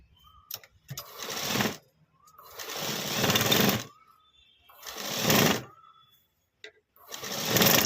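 A sewing machine stitches the shoulder of a ready-made top in four separate bursts of rapid mechanical whirring, each lasting about a second, separated by quiet pauses, close and clear.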